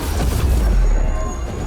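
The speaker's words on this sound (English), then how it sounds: "followed by Rook's Dark Squall, which detonates sundered targets" Dark Squall detonation in Dragon Age: The Veilguard, a loud, close, booming blast whose low rumble swells and then fades out.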